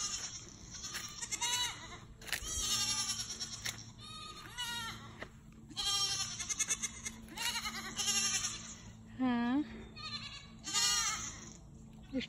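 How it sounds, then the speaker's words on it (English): Several goats on a farm bleat repeatedly in wavering calls, some close and loud and others farther off, over a faint low background rumble. "Go see the goats."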